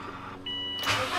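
A Subaru WRX with an Invidia N1 catback exhaust starting up in an enclosed space: a brief cranking whir, then the engine catches and settles into a loud, steady exhaust note.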